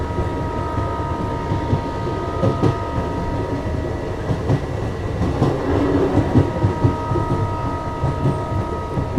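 Nepal Railways DMU train running on the Jaynagar-Janakpur line, heard from inside: a steady, loud rumble and hum with faint clicking wheel noise and a few knocks and rattles, no talking.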